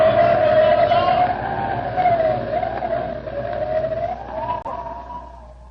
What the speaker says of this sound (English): The wind is rising!